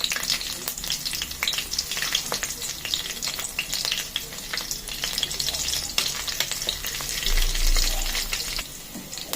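Goat fat and chopped green chillies fry in a pan with a steady, close crackling sizzle, dense spits and pops running throughout with occasional stirring, and no voices.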